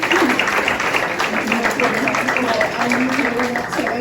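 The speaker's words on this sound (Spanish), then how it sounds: "Un aplauso a Cristo" A church congregation claps together in praise, a dense wash of applause that continues steadily for several seconds with some voices mixed in.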